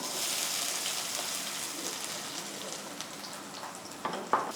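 Cumin seeds and a cup of onion frying in ghee for tempering, a soft steady sizzle with light crackles and a brief stir near the end, fairly quiet and without talk.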